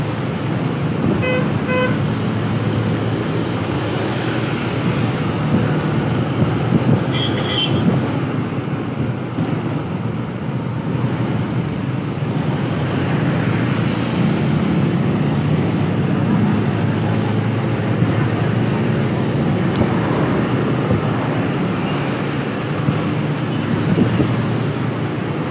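Heavy wind and road roar heard from the back seat of a moving motorcycle, a loud broadband rush that stays constant throughout, with traffic noise and a brief horn toot early on.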